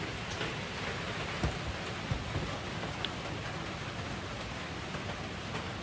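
Heavy rain falling steadily outside a house, a dense even hiss of drops on roofs and surfaces with a few louder nearby drips, no voices.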